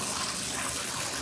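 Warm water runs steadily through a dog paw washer, a continuous close hiss and gush of flowing water with no talk.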